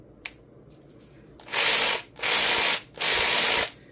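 WorkPro cordless ratchet with a 3/8 inch head, a sharp click first, then three loud, close bursts of motorized whirring and ratcheting, each about half a second long with short gaps between them.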